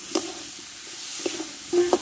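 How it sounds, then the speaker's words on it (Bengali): Potatoes and aubergine are stirred and sautéed with spices in a pan, giving a steady soft sizzle broken by a few scraping stirs, close and moderately quiet. "এবার কষে রাখা আলু বেগুনটা আমি এতে দিয়ে দেবো, একসঙ্গে ভালো করে কষে নেব।"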